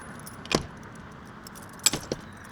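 RV keys jangle in two short bursts, a quick metallic shake followed by a second rattle and a small clink, close by in a quiet space.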